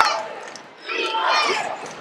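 A college basketball crowd in a gym groaning and shouting together at a missed three-pointer, a swelling roar of many voices that rises, peaks and fades.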